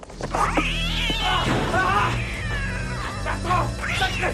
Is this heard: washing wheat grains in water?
no